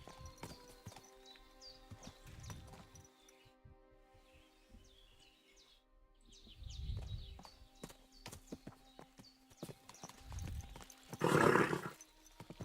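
Horse hooves clip-clop at an easy walking pace in the video game Kingdom Come: Deliverance 2, with several louder thuds and a burst of noisy rumble near the end, over a faint musical bed.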